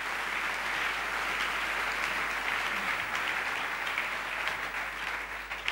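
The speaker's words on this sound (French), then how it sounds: "Alors que tous ceux qui sont d'accord applaudissent le roi Dieu" A congregation applauds during a sermon, its sustained, even clapping held at a moderate distance for several seconds with no speech over it.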